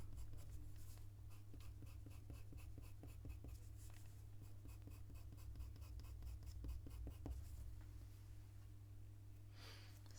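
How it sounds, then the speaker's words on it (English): A Pitt pastel pencil drags across paper while an otter is drawn, a close, continuous scratchy stroking in quick repeated bursts over a low steady hum, with no talk. "I'd like to add a bit more of the 270 Pitt Pastel pencil"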